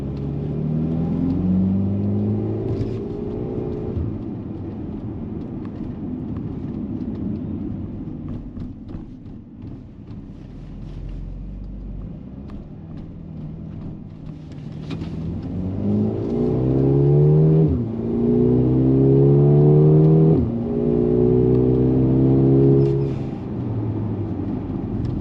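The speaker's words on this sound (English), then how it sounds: "the engine is very responsive, so it goes up to the rev limit quite fast" A Mercedes GLB 35 AMG engine revs hard toward its rev limit, the note climbing quickly in repeated rising sweeps and falling back, loud and close with a steady rumble between pulls.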